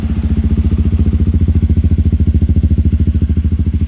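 A 2013 Honda Bros motorcycle fitted with a Biz exhaust idles close by, its engine putting out a steady, loud, rapid pulsing beat that holds evenly throughout with no talking.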